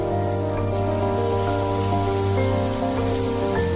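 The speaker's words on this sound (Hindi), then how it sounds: "अब पिसी हुई दालों को डालना शुरू करें। और इनको सुनहरा होने तक फ्राई होने दें।" Ground lentil batter fritters for dahi vada sizzle in hot oil, a steady, dense crackling hiss that holds evenly throughout with no voices.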